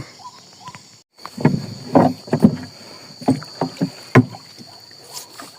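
A small boat on the Ping river, its hull knocking and water sloshing in irregular bursts, fairly close, with a steady hiss of wind or water behind and no talk.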